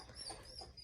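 A dog whines softly in high, thin tones, fairly faint against a quiet outdoor background.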